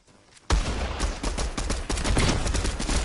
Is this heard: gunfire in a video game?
yes